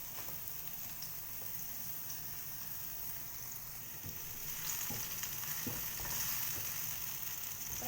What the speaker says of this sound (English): Fry for a while.